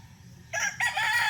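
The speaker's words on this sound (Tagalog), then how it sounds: "Siya man manok di." A rooster crows during a countryside picnic on a farm, its call loud and close, delivered in two bursts: a short opening note followed by a longer, sustained crow, set against a quiet background.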